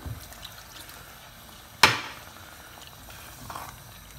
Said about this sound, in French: On va rajouter l'équivalent d'un petit verre d'eau.